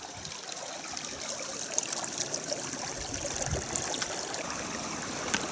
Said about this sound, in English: Found another creek